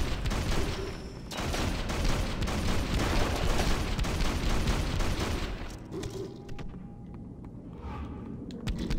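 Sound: shotgun firing in video game Hunter: The Reckoning

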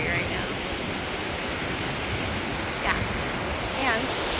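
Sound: ocean waves

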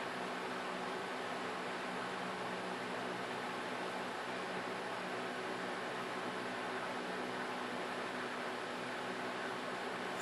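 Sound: electric fan running in the background

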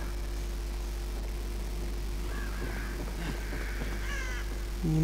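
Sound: birds and crows in a video game

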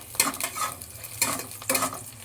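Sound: onion frying in a pan

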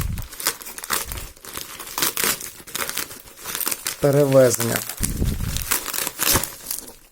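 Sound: unpacking a packaged spinning reel, crinkling packaging

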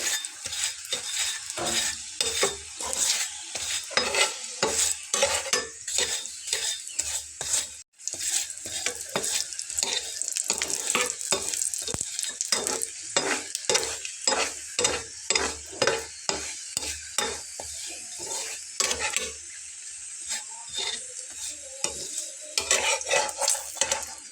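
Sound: paratha frying with oil spread by a spatula

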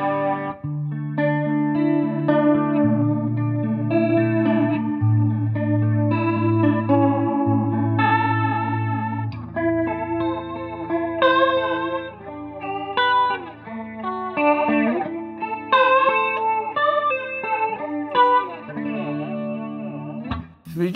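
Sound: guitar through PRS flanger pedal, Leslie-like sound

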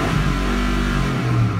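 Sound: 2004 Escalade LQ9 6.0 V8 engine revving to limiter

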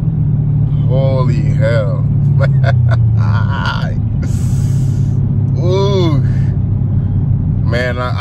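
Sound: Chevrolet Camaro ZL1 engine at full throttle

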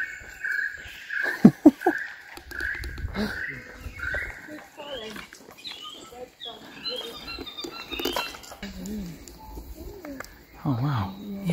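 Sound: birds cooing, pigeons or doves

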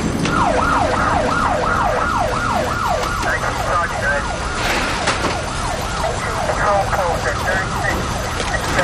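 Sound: emergency vehicle sirens

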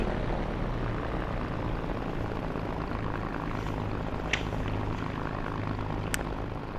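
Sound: P-51D Mustang engine idling in DCS video game

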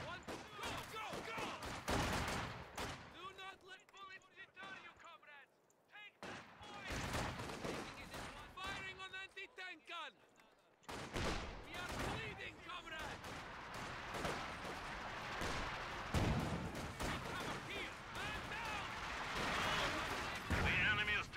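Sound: artillery and gunfire in Company of Heroes 2 video game

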